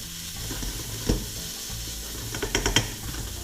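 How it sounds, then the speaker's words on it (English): Mushrooms frying in a pan while being stirred, with pepper just added, giving a steady close sizzle with a few sharp scraping clicks of the utensil against the pan. "Stir it so the pepper distributes evenly."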